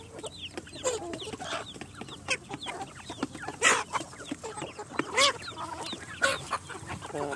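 Free-range country chickens wander a farm, clucking in repeated short bursts close by, with occasional louder calls and no voices.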